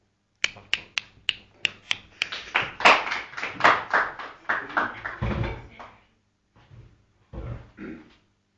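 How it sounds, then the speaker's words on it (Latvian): Seventh-grade students welcome a guest onto a classroom talk-show set with applause: several sharp, evenly spaced single claps, then a close, thicker patter of clapping that thins into a few scattered claps. "Sveiksim ar aplausiem."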